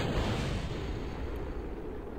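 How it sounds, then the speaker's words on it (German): A capsule exploding in the video game Kerbal Space Program, heard as a low, muffled rumbling blast that fades slowly into a dull roar. "ich glaube, unsere Kapsel ist gerade explodiert"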